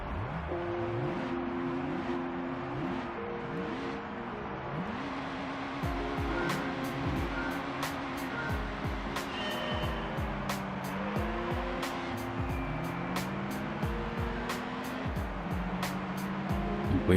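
Mazda Miata engine revving and shifting through gears in the Gran Turismo racing game, a steady synthesized motor drone with rising and falling pitch sweeps and occasional tire squeal, continuous and fairly loud throughout.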